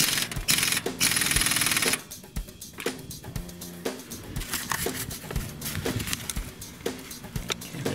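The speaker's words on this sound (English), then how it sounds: "I'm going to use the impact wrench on it just to make sure I get it tightened" An impact wrench tightening a nut on the high-pressure fuel pump of a 2014 Ford 6.7L diesel, a loud buzzing burst at the start followed by rapid rattling hammer pulses, close up and alone.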